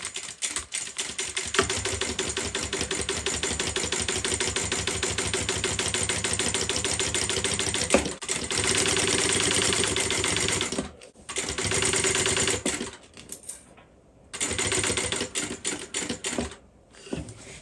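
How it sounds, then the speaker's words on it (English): A sewing machine top stitches along the edge of a tote bag in long, steady runs of rapid mechanical chatter, close and loud, broken by brief pauses and short bursts near the end. "I'll come along this edge and top stitch it"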